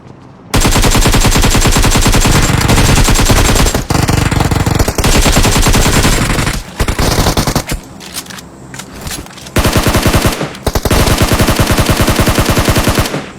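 Loud, rapid bursts of automatic gunfire in the mobile shooter PUBG Mobile, volleys crackling nearly continuously with a few brief pauses between strings of shots.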